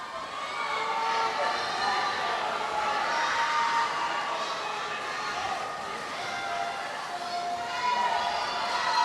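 Loud, dense crowd cheering and shouting fills an indoor swimming meet for the whole stretch, a steady roar with no letup.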